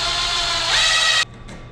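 A power saw cuts a wooden board for a garden box, giving a steady high whine for just over a second. It then stops sharply and leaves a faint low hum.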